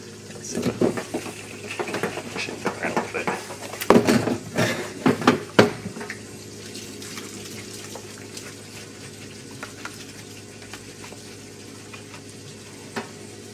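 Fluid being poured into a small plastic outboard motor fuel tank while cleaning it, giving a splashing, sizzling liquid wash with several louder bursts in the first six seconds before settling to a softer steady trickle.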